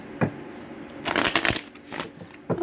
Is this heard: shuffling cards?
yes